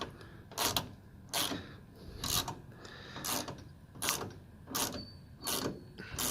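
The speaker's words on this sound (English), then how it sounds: "we're going to take a T45 head and take off this bolt" A T45 bit on a ratchet turns out the tailgate cable bolt on a Ram 2500, giving eight evenly spaced rasping clicks of the pawl, close and moderately loud with short quiet gaps between strokes.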